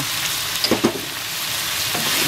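Broccoli and shrimp sizzle in olive oil over high heat in a pan, a loud steady hiss broken by a couple of stirring scrapes.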